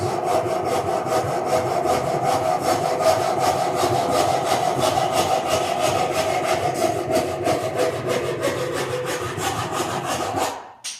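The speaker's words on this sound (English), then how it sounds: "don't want to apply too much pressure that the saw blade bends" A hand saw cutting through wood with light pressure, rapid even back-and-forth strokes rasping loudly and close for about ten seconds before stopping abruptly, no speech.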